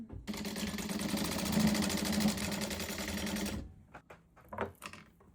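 A sewing machine stitches down a pocket on a quilt coat, running in one steady, loud, close burst for several seconds before stopping, followed by a few soft handling knocks.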